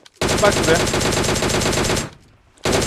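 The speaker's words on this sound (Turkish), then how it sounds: "Adam vurdum." Sustained automatic gunfire from shooting an enemy in PUBG Mobile, a fast steady stream of close, loud shots that stops briefly and then resumes, with someone speaking over it.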